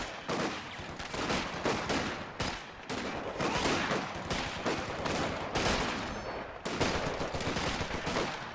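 Gunfire in Company of Heroes 2 on the Poltava Station map: dense bursts of rifle and machine-gun fire crackle almost continuously, loud and close, with brief gaps between volleys.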